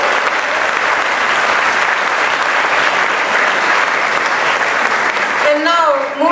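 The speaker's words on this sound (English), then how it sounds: "One big round of applause for him" Sustained, dense applause fills the room from an audience at a committee launch event, loud and steady throughout, with a brief voice rising over it near the end.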